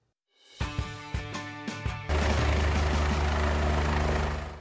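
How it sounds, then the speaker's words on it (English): Glennon One, an air ambulance helicopter serving Missouri and Illinois, spools up with a few sharp clanks before a loud, steady rotor and turbine roar takes over close by. "Glennon One, a new helicopter now providing air medical transport to patients in Missouri and Illinois"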